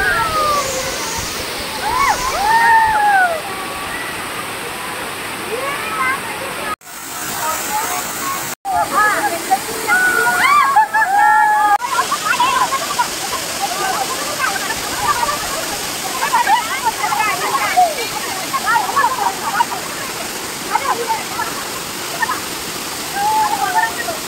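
Nhavankond waterfall in Sindhudurg, a loud continuous rush of falling and splashing water up close, with voices and shouts of people in and around it.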